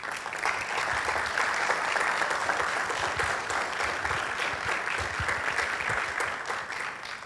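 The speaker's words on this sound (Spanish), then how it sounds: "Los aplausos muy merecidos" Applause from an audience after a talk at a conversatorio event, sustained even clapping from many hands heard up close for several seconds with no speech over it.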